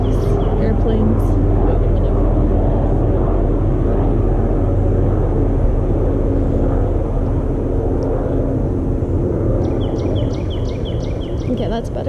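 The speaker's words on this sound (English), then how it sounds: "Those airplanes were pretty loud." Airplanes pass overhead with a loud, continuous roar lasting throughout, a broad steady rumble with faint chirps near the end and no clear speech.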